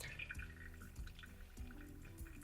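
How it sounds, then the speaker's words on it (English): Pour-over coffee dripping through a paper filter into a vessel, a steady series of small drips and trickles, close and fairly quiet with no talk. "You can stop and allow the coffee to drip down."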